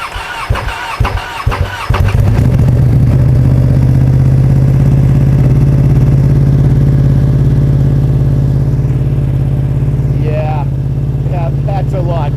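Ducati Panigale V2 with an Akrapovic titanium exhaust firing up from cold: a few ticking cranking beats, then the engine catches and settles into a loud, steady, close idle while a voice talks briefly over it.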